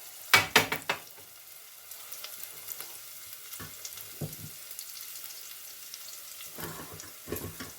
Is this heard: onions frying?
yes